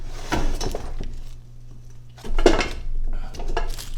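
Clattering and scraping of vegetables being tipped from a pan into a metal stock pot for soup, with a few separate bursts of clanks and rattles.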